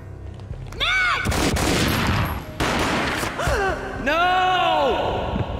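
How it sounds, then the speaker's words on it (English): Gunshots boom in the Max Payne video game, loud close bursts of gunfire sounding twice amid game music and effects, with narration-style voice around them. "Gunshot boomed and she fell down in slow motion."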